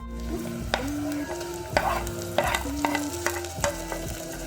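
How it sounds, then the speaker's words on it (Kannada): Onion and tomato frying in a pan for chickpea palya, with repeated sharp metallic stirring knocks of a spoon against the pan over a steady sizzle, no talking. "ಟಮಾಟಿ ಚೆನ್ನಾಗಿ ಫ್ರೈ ಆಗಿದ್ರಿ"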